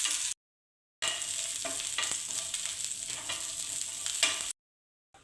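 Garlic and cumin roasting in a little oil over low heat give a steady, soft sizzle with occasional stirring scrapes, set between two short silences and with no voices.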